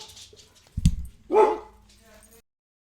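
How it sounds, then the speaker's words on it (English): A dog barks twice indoors, a sharp near bark followed by a louder, longer yelping bark, with faint talk and background noise beforehand. "The dogs are barking."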